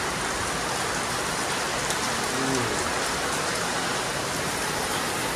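Heavy rain pours steadily during Tula month monsoon weather, a dense, continuous hiss of drops drumming on surfaces close by, loud and unbroken for the whole stretch with no voices.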